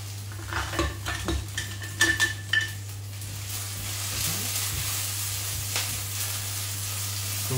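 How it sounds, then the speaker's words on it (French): Garlic frying in a pan, stirred with a utensil that clinks and scrapes against the pan in a few quick bursts early on, then a steady soft sizzle carries on alone. "j'ai l'ail qui commence tout doucement à dorer"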